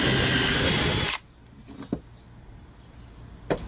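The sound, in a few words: drilling a hole in wood with a power drill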